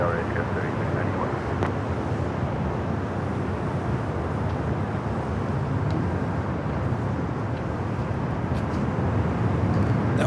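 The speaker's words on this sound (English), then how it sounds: "That was United Airlines Flight 38 coming in from Tokyo Haneda on the 787-10 Dreamliner." United Airlines Boeing 787-10 Dreamliner arriving from Tokyo Haneda and landing at LAX, heard as a loud, steady jet roar that holds without a break for about ten seconds.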